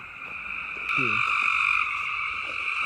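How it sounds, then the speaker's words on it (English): A dense chorus of frogs at Land Between the Lakes croaks loudly and continuously, with a shrill steady drone and a few nearer individual croaks. "Those frogs are so loud."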